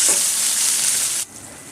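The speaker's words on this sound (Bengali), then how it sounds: "আদা বাটা দিয়ে দিলাম, রসুন বাটা দিয়ে একটু ভালো করে নেড়ে নেব।" Ginger and garlic paste frying with onions in a pan for a tengra fish and brinjal curry. A loud, dense hiss of sizzling oil fills the clip, then drops abruptly to a much quieter simmer.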